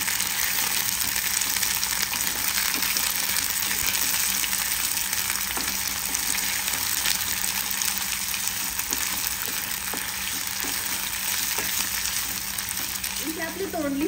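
Ivy gourd (tondli) frying in hot oil, a loud continuous crackling sizzle that holds steady throughout with occasional stirring clicks, close up and with no talking.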